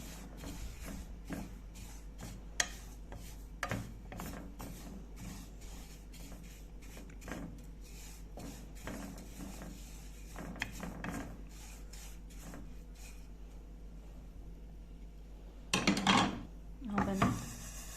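White sesame seeds roasting in a pan are stirred with repeated scraping and rattling strokes, a series of close clicks and rubs, with a louder burst of scraping near the end.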